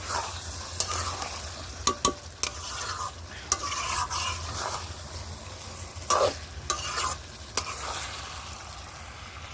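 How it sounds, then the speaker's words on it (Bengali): Chicken is slowly stirred and fried down in a pan, a soft continuous sizzle under repeated scraping and clinking strokes of a spoon against the pot, close and moderately quiet. "তো দেখো মাংসটা আস্তে আস্তে আস্তে আস্তে মাংসটা কষিয়ে নিচ্ছি"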